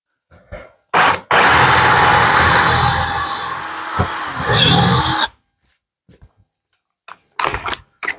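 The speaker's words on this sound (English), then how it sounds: "drill to depth" A power drill bores to a set depth in rubber wood for a threaded insert, whirring loudly for about four seconds with a brief strain midway, framed by short bursts of the drill starting and stopping in a quiet workshop.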